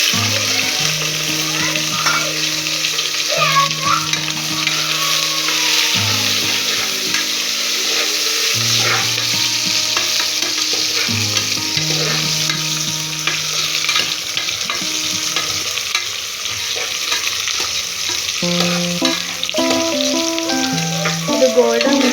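Onions with star anise, cardamom and cloves frying for chicken pulao, a loud continuous sizzle with spatula stirring and scraping throughout, close and with no talk, while tonal music plays along in the background.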